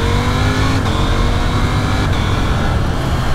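A 2021 KTM 890 Duke motorcycle engine revs up with a steady rising drone, loud and close, with wind noise throughout and a couple of gear-change dips.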